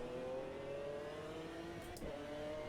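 Race car engine in Automobilista 2 held under steady throttle, a loud sustained tonal drone with a brief dip and shift in pitch near the end as the revs change.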